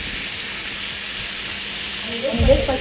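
Seasoned meat browning in a hot pan for a Congolese dish, giving a steady loud sizzle throughout with a brief clatter near the end.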